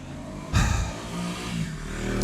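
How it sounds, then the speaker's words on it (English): A loud motorcycle roars past close by, its engine swelling suddenly and staying strong as it goes, with a brief high scrape near the end. "Thanks for your fucking loud ass motorcycle."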